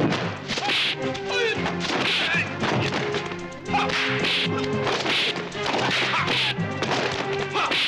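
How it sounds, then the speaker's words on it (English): Kung fu fight sound effects of kicks landing, sharp whip-like thwacks and thuds repeating in quick bursts over dense orchestral music, loud and close, with a voice briefly talking over them. "the rebound kick,"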